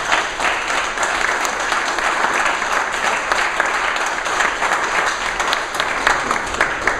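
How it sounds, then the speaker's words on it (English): A crowd at a grand opening event for the Birch Bayh Center applauds for Tom, dense sustained clapping filling the room at steady volume throughout. "if you'd give him a round of applause"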